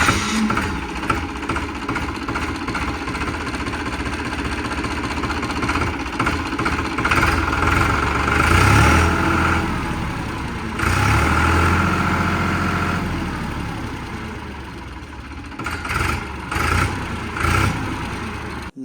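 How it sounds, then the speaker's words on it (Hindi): A tractor engine starts and runs, settling into a steady mid-low rumble that swells and dips in places, heard close up with no talking. "अब इस ट्रैक्टर को चालू करके मैं इसकी आवाज़ सुनाता हूँ।"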